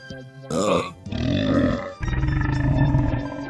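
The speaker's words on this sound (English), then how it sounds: "Pardon me, another burp in another video" A loud, close burp from a man, a short guttural eructation followed by a longer drawn-out rumbling belch, alone without speech.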